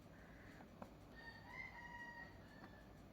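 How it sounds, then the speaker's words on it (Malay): A rooster crows faintly in the distance, a drawn-out call rising over quiet background hiss with a second shorter crow trailing after. "ada bunyi ayam pula."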